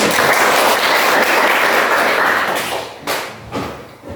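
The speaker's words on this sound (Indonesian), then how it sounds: "Tepuk tangan dulu." Classroom of students applauding after a math answer, a dense burst of clapping for about three seconds that then thins into a few scattered claps.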